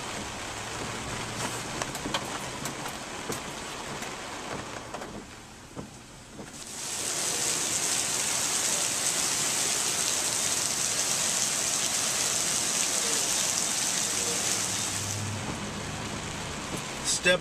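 Rain falls steadily during a Friday downpour on flooded streets, a dense hiss that dips briefly, then returns louder and more even before easing near the end, with scattered clicks and knocks.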